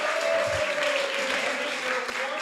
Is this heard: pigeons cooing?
no